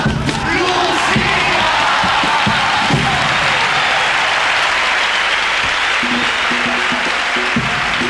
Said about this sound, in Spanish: Medio patio de butacas de pie para recibir con un fortísimo aplauso a esta letra de Juan Carlos Aragón